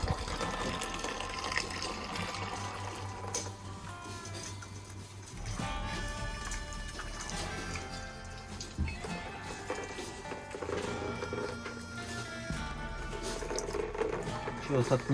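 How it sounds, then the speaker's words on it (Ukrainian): Water drains out of a rabbit hutch's nipple drinking line as it is flushed, gushing and splashing steadily for a while, with speech in the background. "І все, злем зараз цю всю воду і наново чисто залємо"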